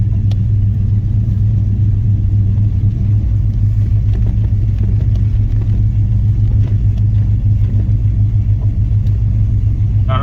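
An OBS shop truck rolls down a dirt road, its engine giving a steady, loud low rumble with continuous road and body noise and faint rattles throughout, no voices.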